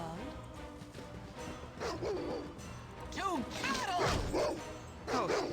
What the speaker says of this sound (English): Oh, they're just wild dogs now.